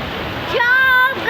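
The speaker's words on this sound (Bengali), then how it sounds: "দেখতে পাচ্ছেন বৃষ্টিটা হচ্ছে" Heavy rain pours down on trees in Bangladesh, a dense, rushing wash of sound. A person talks loudly over it.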